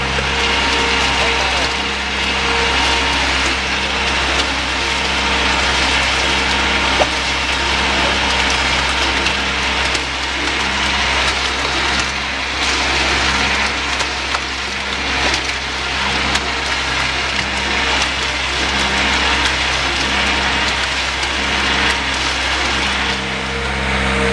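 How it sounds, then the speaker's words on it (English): Blastcrete RD6536 concrete pump attachment circulating concrete back to its receiving hopper, a loud continuous engine drone with grinding, crunching churn throughout, steady and close. "We're going to just circulate the material back to the receiving hopper to show you how the pump operates."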